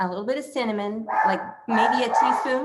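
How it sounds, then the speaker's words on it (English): Several dogs bark in short yapping bursts close by in a home kitchen, overlapping with a person talking through a smoothie recipe. "Sorry about my dogs there."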